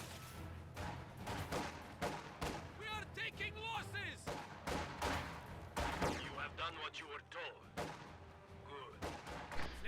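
A war video game battle is full of dense gunfire, with bursts of machine-gun fire, rifle shots and distant artillery thuds rolling continuously, while voices talk over the din throughout.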